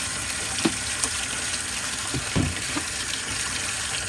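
Tap water runs steadily into a sink being filled for cleaning a Coach designer handbag, a continuous rushing flow with a few soft clunks and splashes.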